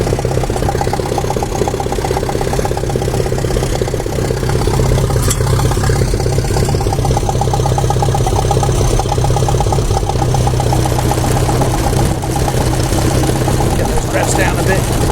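A Ferguson TED20 tractor engine running rough at a constant loud drone while driving an MF732 fingerbar mower, a rapid rhythmic chatter over the engine, with a voice partly under it.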